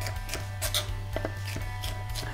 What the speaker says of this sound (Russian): А перец надо нарезать не крупными брусочками.